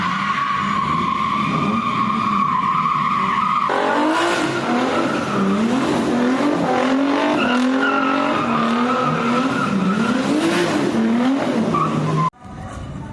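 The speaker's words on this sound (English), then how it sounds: "Three cars doing donuts." Tires squeal loudly and continuously as three cars spin donuts at a car festival in Malaysia, the whine wavering up and down over revving engines before cutting off abruptly.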